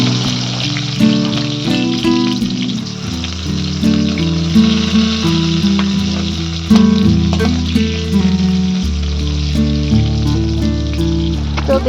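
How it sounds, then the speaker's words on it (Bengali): Eggplant pieces frying in hilsa fish oil, with a loud, steady sizzle and crackle close up and tonal layers running underneath throughout. "বেগুনগুলো একটু ভেজে নেব"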